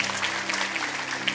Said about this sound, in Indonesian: Kita beri tepuk tangan untuk kebenarannya.